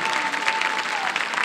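Steady applause from a concert audience for a folk musician, a dense, even wash of clapping with a faint sustained tone running beneath it.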